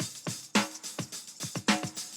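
A sampled funk drum break playing alone: punchy kicks and snares in a steady, syncopated groove with crisp hi-hats over about two seconds.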